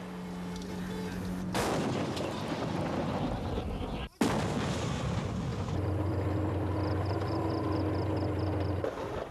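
Dense, sustained bursts of heavy gunfire and booming blasts during fighting in Phnom Penh, Cambodia, in July 1997, with a brief cutoff midway and a steady mechanical drone underneath.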